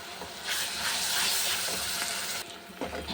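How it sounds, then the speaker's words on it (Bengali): Spice mix hits hot oil with fried onions in a small wok (kadai), giving a loud, steady broadband sizzle that swells after a brief pause and runs for about two seconds before dropping off. "এই মশলাটা দিয়ে দিলাম।"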